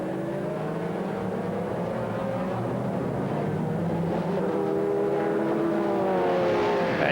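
Audi race cars in the 2001 American Le Mans Series, their engines droning continuously at a steady roar with shifting pitch as cars run in traffic, loud and close throughout with no pauses.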